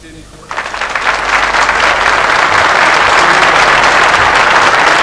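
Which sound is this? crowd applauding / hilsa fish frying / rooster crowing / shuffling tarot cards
crowd applauding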